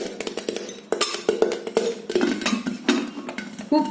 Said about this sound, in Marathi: मस्त लाह्या फुटू लागल्या